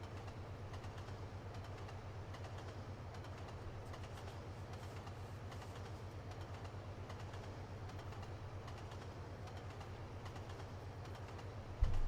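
A locomotive running on rails in the Trainz Simulator 2 game on the Razorback Classic route gives a steady, continuous low rumble that holds even throughout, with faint clatter and no voices.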